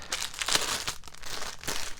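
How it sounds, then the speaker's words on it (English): A small plastic bag is handled and opened, giving soft crinkling and rustling in several quick bursts, close and fairly quiet, with no voices. "Small plastic bag."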